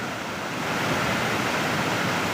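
Steady, dense rush of falling water from an overflowing lake, broadband and unbroken, like a waterfall heard fairly close with no voices.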